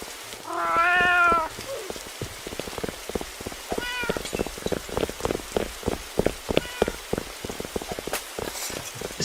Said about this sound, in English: I can still hear cat noises and glass breaking, and it's because of the hammer item in the game.